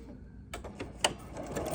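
A Bernina sewing machine with a double cording foot (#59C/#60C) runs a zigzag stitch 5 mm wide and 1.5 mm long, wrapping cord. After a brief quiet moment, it starts a close, steady, rapid rhythmic stitching chatter.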